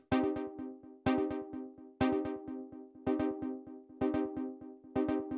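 A synth stab repeats once per second through a Soundtoys EchoBoy dual echo, left channel on 16ths and right on 8ths, each hit trailing into a fast stuttering run of echoes that fade away, rhythmic and clean with no talking.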